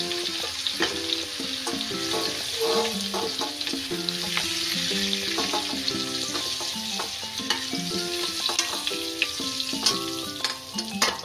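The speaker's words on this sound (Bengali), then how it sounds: "কপিগুলোকেও লাল করে ভেজে নিয়েছি" Cauliflower florets fry in hot oil in a pan for a Bengali egg curry, giving a continuous close sizzle and crackle, with a steady spread of pops and a few stirring clatters throughout.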